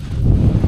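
Wind gusts batter the microphone during a motorcycle ride along Route 66, a brief, loud, low rumbling buffet that fills the moment without any speech.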